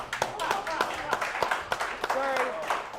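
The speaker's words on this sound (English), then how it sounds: "I've never started clapping during the show" Scattered hand claps from a live show audience, sharp taps in an uneven rhythm under a man's ongoing speech.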